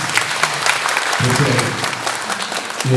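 Audience at a family reunion gathering in a town hall in Guruvayur claps loudly and steadily, a dense burst of applause filling the hall with brief voices mixed in.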